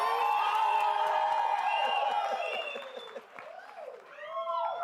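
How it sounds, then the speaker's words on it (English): Audience at a live session with an LGBTQI+ society applauding and cheering for a leader, a bright crowd roar with whoops and shouts that fades midway, then a few voices rise again. "Can we stand up and give her a round of applause that a leader like her deserves? Can we scream?"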